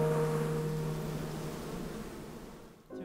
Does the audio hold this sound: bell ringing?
no